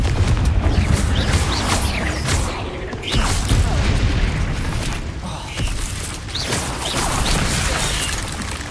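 Repeated fiery spell blasts in Hogwarts Legacy's hidden Hogwarts dungeons, loud booming explosions and crashing impacts stacked in a dense, continuous barrage of combat with no pauses.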